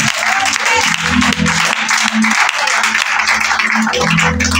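A church congregation at a Sunday worship service claps and cheers loudly in a sustained wash of applause, with voices calling out throughout.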